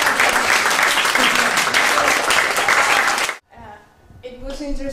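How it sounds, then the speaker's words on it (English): Loud audience applause from a Semiofest 2013 semiotics conference crowd fills the first three seconds, then cuts off abruptly, followed by a brief lull and a voice beginning to speak. "We can clap her also."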